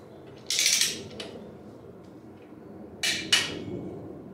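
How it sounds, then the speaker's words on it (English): Engine bolts on a Turbo K24 drivetrain being torqued down with a wrench in a star pattern: a few sharp metallic ratcheting clicks, one burst, a faint tap, then two quick bursts, close and fairly quiet. "Now we are just going to torque down all the bolts in a star pattern."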